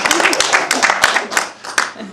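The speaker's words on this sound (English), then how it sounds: "I think we should give this guy a round of applause." An audience at a general meeting talk on network application troubleshooting gives a short round of clapping, close and uneven, with a voice speaking over it.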